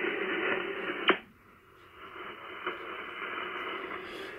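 Amateur radio receiver audio on a remotely controlled station just after connecting: a steady band of hiss and noise with a faint carrier-like hum, one sharp click near the start and a few softer blips, no voices.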